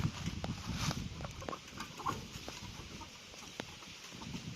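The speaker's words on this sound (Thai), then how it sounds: "โอ้ไก่มันหลายเลยนี่" Chickens cluck softly at a flooded rubber plantation, a scatter of faint, brief calls over low, steady background noise.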